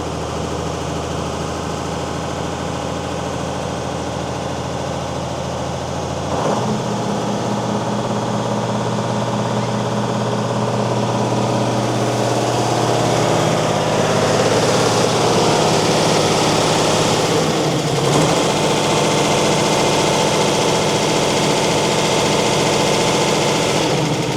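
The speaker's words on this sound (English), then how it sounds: "Making a few big truck noises back there." A Mercedes-Benz 911 4WD truck's large diesel engine idles steadily with a deep, rumbling drone, shifting pitch slightly partway through and continuing unbroken and close.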